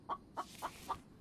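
Chicken in the video game The Infected clucking four times in an even rhythm, each cluck short and clear, moderately close over faint background ambience.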